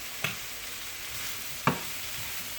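Shrimp seasoned with Maggi frying in a pan over low heat, with a soft steady sizzle broken by two sharp clatters of stirring.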